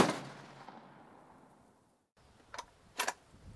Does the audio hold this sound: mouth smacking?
no